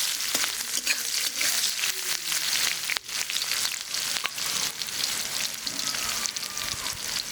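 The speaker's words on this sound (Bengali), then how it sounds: "পেঁয়াজটা হালকা ভাজা হয়ে এসছে।" Chopped onion fries in a pan for a Bengali katla fish curry, giving a steady, close, hissing sizzle with the soft scrape of stirring throughout and no talking.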